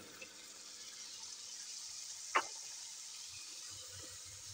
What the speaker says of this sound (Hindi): ये पानी वो वाला मैं डालूंगी, इसमें स्टॉक मेरे पास है, ये चनों का स्टॉक है